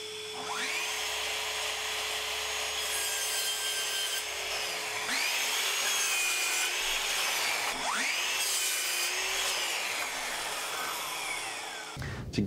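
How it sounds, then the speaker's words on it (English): A miter saw whines up and bites through pallet wood boards in several cuts, each a rising high-pitched buzz with rough wood rasping, over a steady motor hum in a workshop. "So let's get these cut down on the miter saw."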